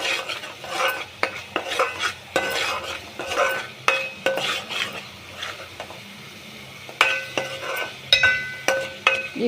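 Garam masala and chili powder frying in a pan for Nellore-style goat head curry, stirred with a metal spoon in a steady series of scraping, clinking strokes over a soft sizzle, close and fairly loud with no voices.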